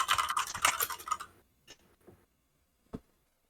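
Rapid computer keyboard typing clatters close up for over a second, then stops, followed by a few isolated clicks and one sharp tap.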